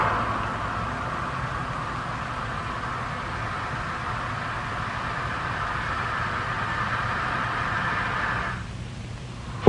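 In a laboratory channel of compressible fluid, air rushes through a valve and piping in a steady broadband hiss that holds evenly for several seconds and then drops away abruptly near the end, with no voices.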